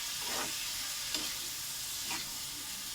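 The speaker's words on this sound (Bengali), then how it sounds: "দিয়ে নেড়ে চেড়ে ভাজা ভাজা হবে" Bitter gourd, potato and whole green chillies fried in oil and stirred, a steady sizzling hiss with a few soft spatula scrapes spaced through it, close and unaccompanied.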